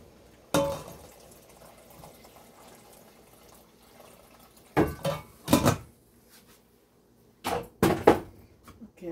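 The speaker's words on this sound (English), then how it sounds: "I'm going to add a little bit more water." Water poured into Jamaican fritter batter in a bowl, heard as three separate bursts of splashing and clinking, short and close, with quiet gaps between them.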